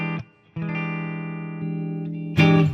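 Sustained electric guitar notes and a chord played with a clean tone through a Boss reverb pedal, ringing out with a short gap early on and a louder strummed chord near the end, alone with no talk.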